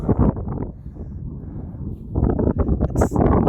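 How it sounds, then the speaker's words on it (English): Wind gusts over a mic on an open hiking trail in New Mexico, a steady low roaring rush that swells and eases, growing louder and more buffeting toward the end. "It's kind of breezy, but it's not that bad"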